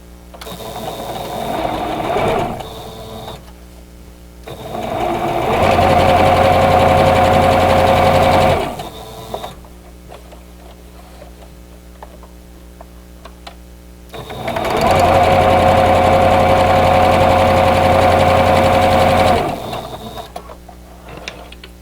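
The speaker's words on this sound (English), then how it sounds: "So just place them right sides together and sew a 1/4 inch away from both sides of that drawn line." Sewing machine stitching half-square triangles for a vintage quilt block: two long, steady runs of close mechanical whirring separated by a quieter pause.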